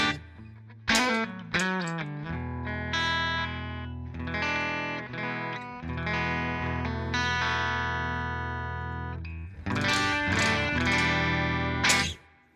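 An electric guitar played through a Line 6 HD500 amp model with a 1963-style spring reverb rings out in strummed, sustained chords and single plucked notes, moderately distorted, with reverb tails between phrases.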